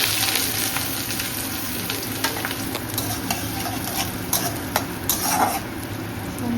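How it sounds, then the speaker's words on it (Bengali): Onions dropped into very hot oil fry with a loud, dense crackling sizzle, with occasional clinks and scrapes of a utensil against the pan throughout, no speech. "আমার তেলটা খুবই গরম হয়ে গেছে। এবার প্রথমে আমি যেটা করবো, আমি আগে পেঁয়াজটা হচ্ছে দিয়ে দিচ্ছি।"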